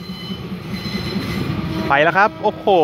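Thai diesel passenger train 4387 pulling slowly out of Ban Laem station, a steady low rumble of rolling cars with excited talk over it, then a loud horn sounding in several blasts near the end.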